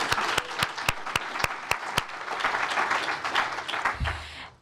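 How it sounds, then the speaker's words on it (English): Audience at a forum on transforming prisons breaks into applause, opening with a few loud separate claps that swell into steady, continuous clapping before it dies away. "So everyone feel free to wave or applaud."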